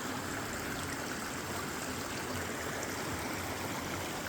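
Stream water falling and trickling over rocks, a steady broadband rush and gurgle close by that holds constant throughout, with no voices.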